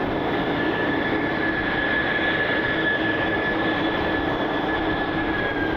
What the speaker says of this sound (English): You can hear the iconic sounds of the A220.